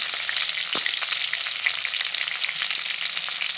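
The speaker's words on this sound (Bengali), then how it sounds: "আমার সবজি প্রায় কষানো হয়ে গেছে" Vegetables sautéing in a pan with spices, a steady close sizzle and crackle with occasional stirring scrapes, no voices.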